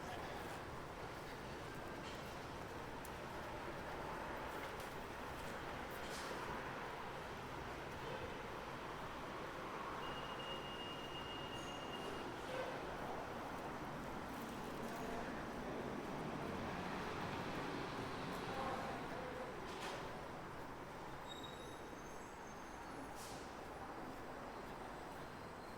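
An Ottawa LRT train approaches a station platform as a steady low rumble and rail hum with faint squeals, quiet and distant, heard alone without talking.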